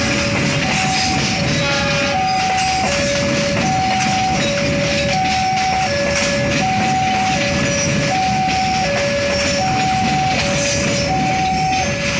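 A train runs on an elevated track above residential houses near Surabaya Kota and Gubeng stations, a loud, steady rumble with repeated alternating two-tone horn notes throughout.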